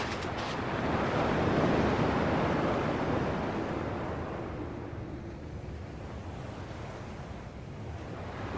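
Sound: ocean waves in video game Kingdom Hearts 2

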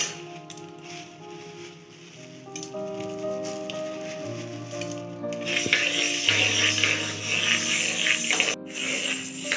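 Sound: whole moong dal dry-roasting in a pan

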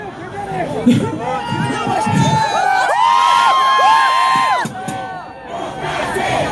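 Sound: festival crowd cheering

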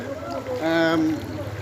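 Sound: boat moving through floodwater

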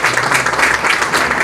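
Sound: audience applause at theatre presentation

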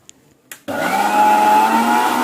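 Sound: spinach being blended in a mixer grinder

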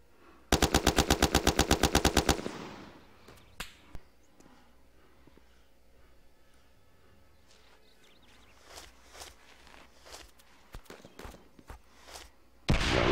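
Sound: gunfire in video game ArmA

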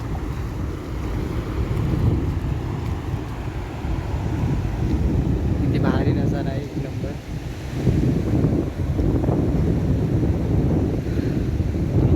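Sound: sea waves on the beach

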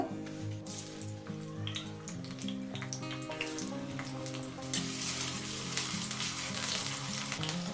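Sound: potatoes frying in mustard oil in a wok

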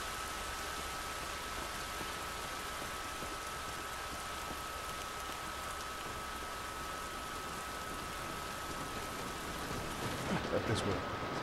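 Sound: rain falling in the video game The Last of Us Remastered

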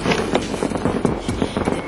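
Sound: fireworks

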